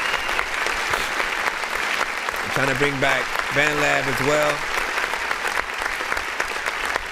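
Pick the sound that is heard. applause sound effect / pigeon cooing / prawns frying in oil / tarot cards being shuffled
applause sound effect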